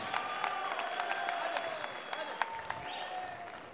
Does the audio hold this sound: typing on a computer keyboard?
no